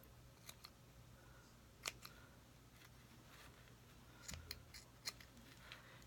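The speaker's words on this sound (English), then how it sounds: "So now take your really sharp scissors" Sharp scissors snip through bulky yarn for a hat, a few quiet, scattered cuts and clicks spread over several seconds against a soft room hiss, with no talking.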